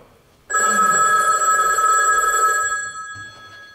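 A telephone bell rings loudly and steadily for about two seconds, then fades, on stage during a theatre comedy performance by a small village troupe, ahead of the receiver being picked up.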